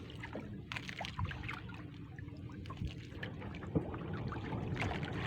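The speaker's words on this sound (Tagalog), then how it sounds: "Rinig na rinig dito yung hampas ng alon sa may harapan niya." Waves thrown up by a passing ship slapping against the shore and water's edge nearby: irregular splashing and trickling over a low, steady rumble, with a sharper slap near the end.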